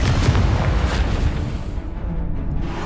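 An Expulso blasting spell detonates in Hogwarts Legacy on Xbox Series X, a loud close boom with a rumbling low-end body that slowly fades over a few seconds, no voices on top.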